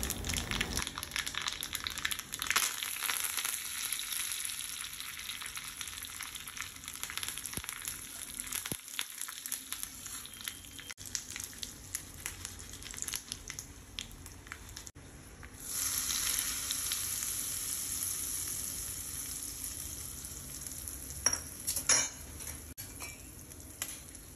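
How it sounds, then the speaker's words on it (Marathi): Cumin and mustard seeds with curry leaves crackle and sizzle in hot oil in a tempering pan, with a steady frying hiss that swells louder partway through, plus a few utensil clicks. "ह्या तडक्या पॅनमध्ये तडका देते. जिरे, मोहरी आणि थोडासा कढीपत्ता टाकला आहे"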